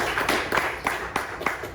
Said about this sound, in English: Go ahead and give a round of applause for us